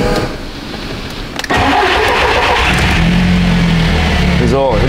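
A 16-valve turbo car engine with a fault being diagnosed cranks and catches about 1.5 seconds in, then settles into a loud, steady idle. A voice speaks briefly near the end.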